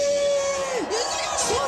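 Crowd at an impeachment-opposition rally near a government office, roaring and shouting loudly together on cue. The sustained mass of voices is close and dense, with a tonal whistle-like sweep riding over it.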